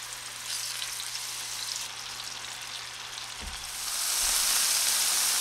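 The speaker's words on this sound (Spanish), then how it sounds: "A fuego medio alto, cuando el aceite esté caliente, vamos a ir agregando los filetes" Pork fillets sear in hot oil in a frying pan over medium-high heat, giving a steady crackling sizzle that swells louder near the end as more meat hits the pan, with no voices.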